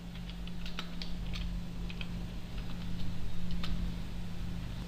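Soft, quick keystrokes on a computer keyboard typing out a name, a string of light irregular clicks over a constant low hum.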